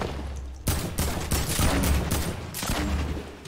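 A grenade launcher in Fortnite fires a rapid string of loud, booming blasts that pile up into a continuous barrage of explosions, with no talking over them.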